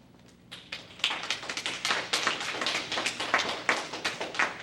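Scattered audience applause at a city planning and development committee meeting, starting with a few sparse claps and swelling into a steady, moderately loud round of clapping in a hall.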